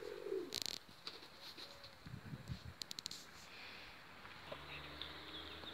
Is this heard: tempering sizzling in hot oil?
no